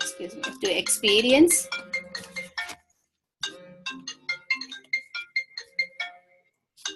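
A mobile phone ringtone plays a persistent melodic chiming tune, pausing for a moment before ringing again, with brief speech at the start.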